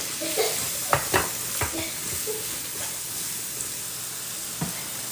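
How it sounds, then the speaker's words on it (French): Onions stirred in a pan with red-tinted oil while cooking a sauce for an African fish dish, with a steady soft sizzle and several distinct scraping stir strokes at irregular intervals. No one speaks. "je pousse ça derrière pour laisser le temps à ce que les oignons deviennent bien tendres."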